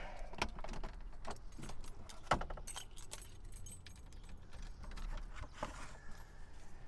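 Rummaging through the glove box of an original 1980 Chevrolet Camaro Berlinetta, with jangling keys, paper and small objects shuffling close by in a series of light clinks and rustles, and a sharper knock near the middle.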